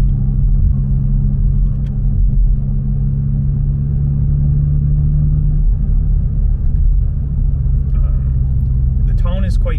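A deep, steady exhaust rumble from a Mk7 Volkswagen GTI with a muffler delete drones continuously as it drives, loud and close, with road noise throughout.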